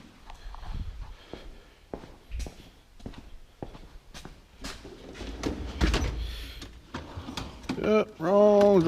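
A garage workshop: drawers in a tool chest sliding open and shut in a rummaging search for a pry bar, a series of irregular close clunks and rattles with a louder burst at the end, while someone talks throughout.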